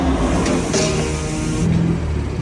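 A BMW M3 F80 with its S55 engine runs on a dyno, putting out a loud, steady engine roar that holds near and constant from start to finish with no pauses.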